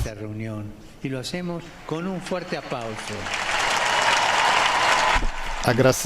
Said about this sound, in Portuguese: Agradeçamos-lhes por isso, com uma grande salva de palmas